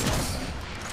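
A sniper rifle shot in Apex Legends, a loud burst of gunfire that fills the short moment, dense and noisy across the range with no voice over it.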